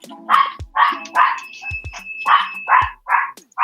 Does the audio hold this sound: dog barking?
yes